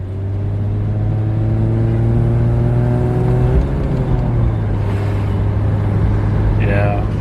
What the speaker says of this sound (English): Well, it's not wanting to downshift. It's either slipping real bad.